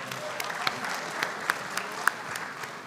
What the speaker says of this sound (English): I think we should clap for them.